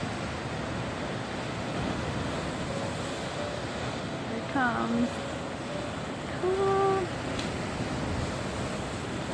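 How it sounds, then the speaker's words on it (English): Waves from Lake Superior break on the shore in a steady broadband surf wash with wind, swelling slightly as a set arrives, while a person speaks briefly over it. "Lake Superior waves."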